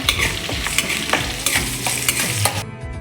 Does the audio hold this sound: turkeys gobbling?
no